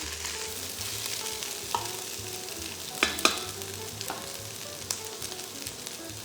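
Rice pin noodles being stir-fried in a pan while sauce comes to a boil, a soft steady sizzle broken by scraping stirs and a few sharp clinks near the middle.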